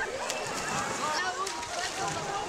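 Water sloshing and splashing at a biologically cleaned natural swimming pool, a continuous bright, rippling churn with scattered small splashes, heard nearby with a voice talking over it.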